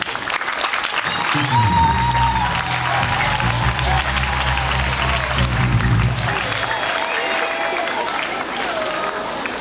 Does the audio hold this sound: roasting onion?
no